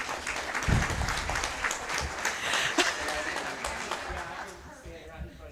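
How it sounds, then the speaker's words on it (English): Audience at a school district board meeting applauding a student golfer, a full round of clapping that carries on steadily and fades slightly toward the end, with voices mixed in. "Let's give her another round of applause"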